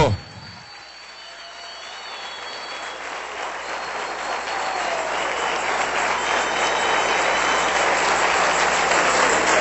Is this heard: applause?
yes